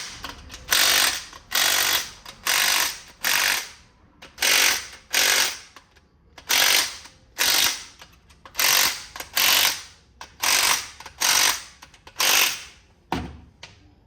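Ratchet wrench tightening the pump bolts on a 2010 GMC Acadia timing chain job, heard as about fourteen loud, close bursts of rapid clicking, each roughly half a second long, separated by short pauses.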